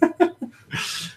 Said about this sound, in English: I don't know if you guys can hear Thor howling in the background.